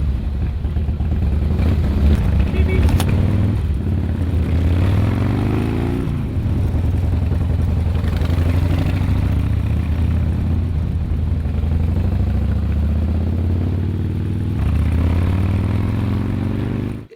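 A motorbike engine runs and revs loudly and steadily for the whole stretch, with a deep low drone and some rattling clatter, no voices over it.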